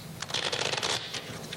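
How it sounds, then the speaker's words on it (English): A deck of playing cards being given an honest riffle shuffle, a quick run of crisp fluttering snaps with a brief pause before a few final flicks, close and alone. "Now, this is an honest shuffle."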